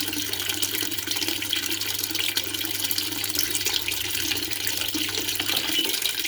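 Water pours steadily into the drum of a top-loading washing machine, a continuous, fairly loud rushing hiss that stays even for several seconds with no talk over it.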